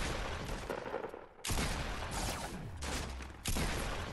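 Bursts of gunfire in Fortnite Battle Royale on PS4, loud rapid volleys broken by a brief lull before more shots resume.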